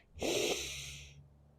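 A deep breath drawn in through the nose during a yoga hip-opening stretch, one long, close, loud airy inhale that swells quickly and then fades, with no talking over it.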